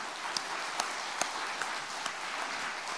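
A church congregation in Korea applauding during a Sunday worship service, a steady dense wash of clapping with a few sharper individual claps standing out, moderately distant and without speech.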